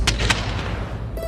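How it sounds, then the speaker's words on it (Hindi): Firecrackers burst outside a home during a celebration, a couple of sharp cracks near the start followed by a rumbling wash of further bangs, loud and fairly close. "पटाखे कितने फूट रहे?"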